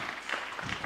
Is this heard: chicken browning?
no